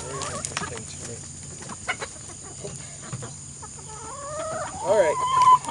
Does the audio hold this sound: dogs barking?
no